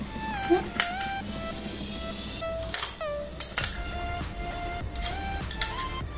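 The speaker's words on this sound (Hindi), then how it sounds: "अभी हम इसमें आइस डालेंगे। मैंने आइस क्रश करके रखा है यहाँ पर।" Crushed ice dropped into a glass while making a kiwi mojito, a string of bright clinks and glassy chinks in scattered bursts, close and clear, with faint kitchen background noise.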